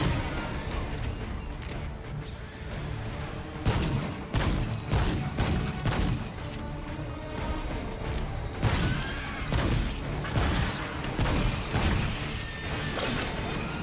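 Pistol fire in the video game Remnant II, a dense run of repeated sharp shots and impacts over a busy, loud game mix with music and effects throughout.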